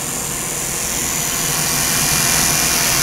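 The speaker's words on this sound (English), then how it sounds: "I want to show you the noise level of this pump." An AirDog fuel pump for a truck runs as a steady, continuous hum with a faint high whine, loud and unbroken throughout with no talking.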